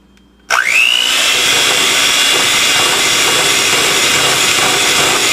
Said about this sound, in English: I'm going to be stirring in with some powdered sugar, 1 cup at a time